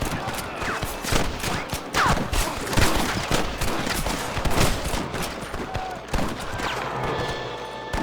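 Continuous gunfire in the Red Dead Redemption video game, with dense overlapping shots close and loud, while voices shout over the shooting.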